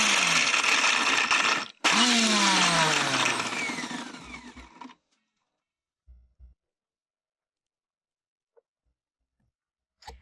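A kitchen grinder coarsely crushes peanuts, white sesame, ginger, chillies and coriander in two loud whirring bursts, with a brief pause between them. Faint knocks follow once it stops.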